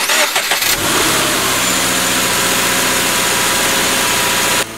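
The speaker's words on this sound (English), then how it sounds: "this Toyota 86 has a 2-liter, 205 horsepower mill under the hood" Toyota 86 sports car with a 2-liter, 205-horsepower flat-four boxer engine cranking and starting, then running loud and steady at a raised idle close by, with no talking.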